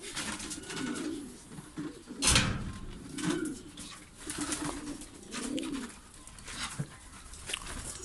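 Pigeons coo in soft, low, repeated rolling calls, fairly close, with a sharp knock and light rustling in between.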